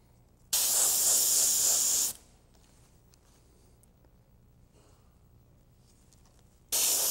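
A spray gun hisses out chameleon color-shift paint in a steady burst for about a second and a half, goes quiet, then starts spraying again at the end.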